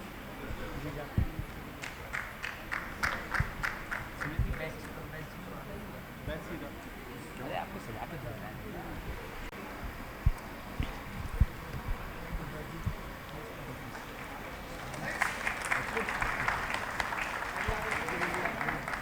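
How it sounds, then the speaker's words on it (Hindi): Applause from the audience at a Jain scholars award ceremony, a crowd clapping in scattered patches across the hall, swelling louder near the end, with talk mixed in. "एक बार सुनील जी के लिए जोरदार तालियों से उनका अभिनंदन करें।"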